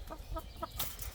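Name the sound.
chickens clucking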